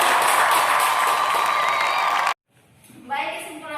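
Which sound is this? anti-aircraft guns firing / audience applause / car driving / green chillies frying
audience applause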